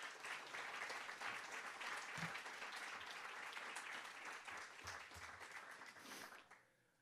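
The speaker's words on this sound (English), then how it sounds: "let's give her a big round of applause" Audience applause for a library director at an evening library talk, a dense steady clapping crowd that carries for about six seconds before tapering off sharply near the end.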